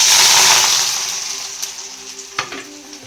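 Onions frying in oil as brown onions for a paneer biryani, a loud steady sizzle that tapers slightly, with a couple of brief crackles near the end and no talking.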